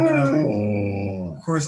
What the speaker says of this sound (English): he's a half wolf, so he likes to howl.